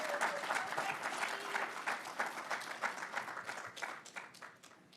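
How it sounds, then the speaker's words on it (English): An audience applauds graduates at a Metro Operations graduation and promotion ceremony, with steady, dense clapping from a large crowd that holds for about five seconds before gradually thinning toward the end. "Let's give them a huge round of applause."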